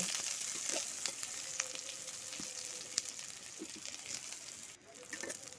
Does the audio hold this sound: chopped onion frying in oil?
yes